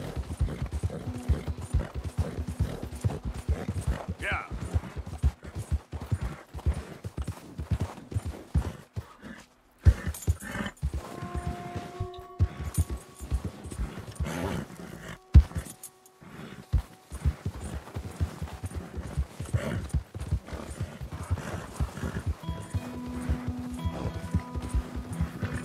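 Horse hooves clip-clopping steadily at a riding pace in Red Dead Redemption 2, a continuous rhythmic patter close by, with faint tack jingling and brief game tones partway through.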